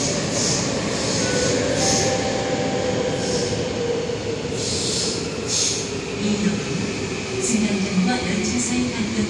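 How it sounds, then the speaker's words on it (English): A Seoul Metro Line 3 train, set 315 bound for Gupabal, pulls into Geumho station with a steady rolling rumble and squealing wheels, close and loud, while a voice speaks over it. "The train for Bukova is approaching."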